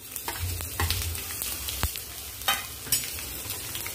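Crushed coriander, carajwain, fennel, sesame and green chili paste roasting in a pan for samosa filling, a steady close sizzle with scraping stirs and occasional sharper clatters, no talk.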